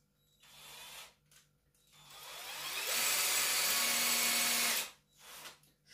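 A power drill with a 4.2 mm bit bores into the brick of a small oven, starting with a few short bursts and then running in one loud sustained grind before stopping.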